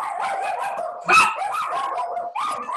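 Several dogs bark repeatedly, rising to one loud close burst midway, with yips and whimpers mixed into a steady stretch of barking.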